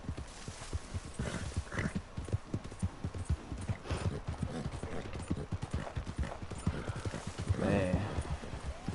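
Horse hooves clip-clopping in the video game Red Dead Redemption 2, a steady, close rhythm of hoof strikes at a walking or trotting pace, with a faint whinny near the end.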